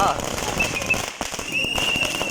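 Firecrackers bursting in rapid irregular bangs at a TVK party rally, a loud crowded outdoor scene with a steady background din and voices mixed in.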